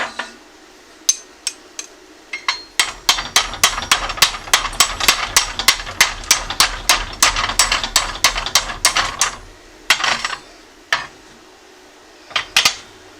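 A hammer knocks slag off freshly plasma-cut steel in a fast run of sharp metallic raps, close and loud, then a few scattered strikes after a pause.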